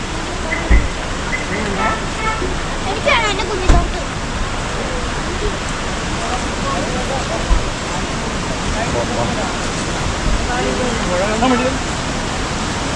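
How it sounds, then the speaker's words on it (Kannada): A river swollen after rain rushes past in a continuous loud roar of water, steady throughout with a few brief knocks and faint voices now and then in the background. "ಹೊಳೆ ಹರ್ಕೊಂಡು ಹೋಗ್ತಾ ಇದೆ ಮಳೆ ಬಂದಿರೋದಕ್ಕೂ ಅದಕ್ಕೂ ತುಂಬಾ ನೀರಿದೆ"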